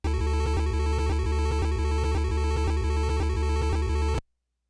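Layered, duplicated synth clips stacked for a synthwave pad, a dense, loud sustained chord with a steady pulsing rhythm that runs continuously and then cuts off abruptly near the end, with no voice.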